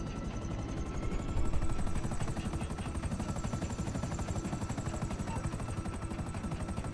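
Buzzard helicopter in the video game GTA 5, a steady loud rotor thrum with a buzzing whine, rising briefly early on and then holding constant.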